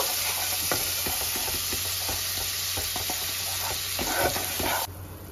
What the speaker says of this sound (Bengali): মশলাটা যাতে পুড়ে না যায় তার জন্য একটু জল দিয়ে দিলাম। এবার মশলাটা ভালো করে মিক্স করে নেব।